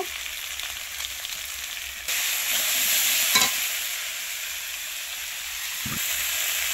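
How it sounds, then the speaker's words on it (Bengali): Potatoes and carrots fry in a wok with a continuous hiss and sizzle, broken by a few scraping stirs, and the sizzle grows louder partway through. Nobody speaks. "আলু আর গাজর তো ভালো করে ভাজা হয়ে গিয়েছে।"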